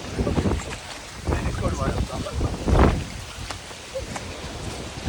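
Strong hurricane wind buffets the microphone in steady roaring gusts outdoors near a tennis court at night, with a louder surge near the middle and speech mixed in.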